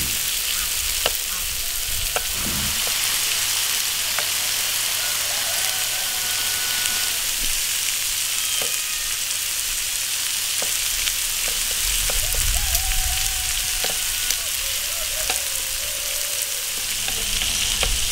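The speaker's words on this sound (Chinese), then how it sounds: "把这个五花肉多翻几面，把它的油给它煎出来，已经在慢慢出来了。" Pork belly frying in an iron wok gives a steady, close sizzle and crackle of rendering fat, with occasional scrapes and clinks as the pieces are turned, continuous with no talk.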